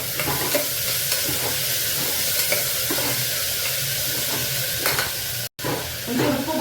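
Onion, tomato and coriander leaves fry for a mutton curry while being stirred. A loud, continuous sizzle is broken by scraping spoon strokes in the pan, close by, with no speech.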